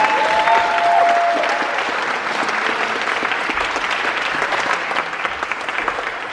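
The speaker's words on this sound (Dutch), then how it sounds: "Laat hem nog een keer klappen, sorry." Sustained applause from a crowd, dense and steady clapping filling the whole stretch at close range, with a brief voice-like tone near the start.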